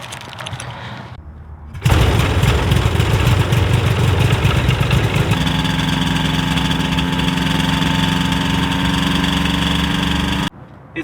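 An abandoned airplane's engine starts up and runs rough at low RPM, a loud, steady droning rumble with a wavering tone that holds for several seconds before cutting off.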